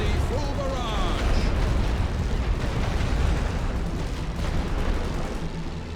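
A Great War Western Front artillery barrage rumbles as a continuous heavy roar of overlapping booms, loud and sustained for six seconds, with faint voices underneath.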